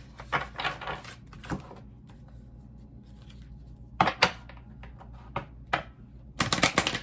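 Stiff tarot cards being shuffled in quick bursts, crisp riffling clusters separated by quieter pauses, close and fairly soft.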